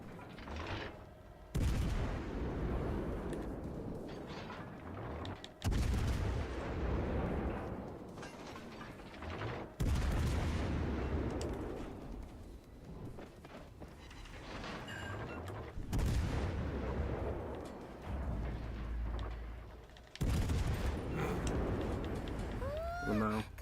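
Heavy naval guns of a warship in World of Warships: Legends fire at an island, with five loud booming salvos spaced a few seconds apart, each rolling into a long rumbling decay, while a voice talks over the action.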